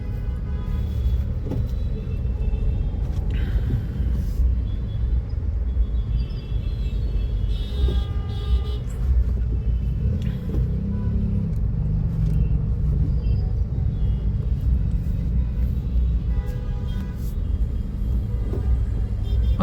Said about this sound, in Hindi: ट्रैफिक काफी जाम है, क्योंकि बारिश का टाइम है तो हर जगह जाम तो मिलेगा ही